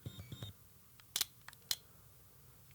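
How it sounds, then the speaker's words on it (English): A Hasselblad 907X medium format camera's leaf shutter, housed in the lens, fires twice in quick succession. Each release gives short, crisp, quiet clicks. Faint handling taps come before and between them. "It is a leaf shutter, so all of the shutter mechanism is inside the lens."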